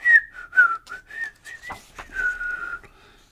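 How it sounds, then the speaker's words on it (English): A man in a film whistles a tune while hosing down a public restroom, a clear series of short and held whistled notes, close and alone. "He's whistling."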